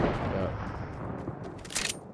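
Rapid booming grenade launcher fire in Fortnite, a dense burst of gunfire and blasts at mid distance, with a louder crack near the end, under players talking.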